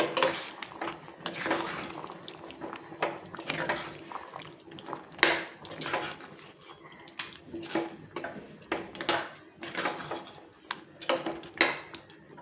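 A spoon stirs a watery potato and green pea curry in a pot, making soft intermittent scrapes, clinks and sloshes at low volume, with a person talking now and then.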